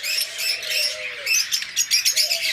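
A split blue budgerigar pair chatters up close in dense, bright chirps and warbles, with a sustained whistled note, then a burst of rapid, rhythmic tweets, and no talking.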